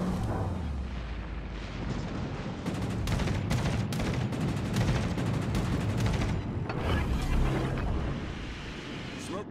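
Naval guns on a Fletcher destroyer in World of Warships: Legends, a rapid run of sharp booming shots with rumbling tails under a dense battle din, loud and close throughout.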